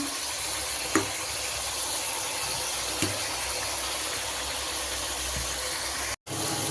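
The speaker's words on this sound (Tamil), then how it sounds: "தக்காளி நல்லா எண்ணெயில் வதங்கணும்" Tomatoes frying in oil for pea pulao: a steady, even sizzling hiss runs throughout, broken by a couple of faint clicks and one brief dropout near the end.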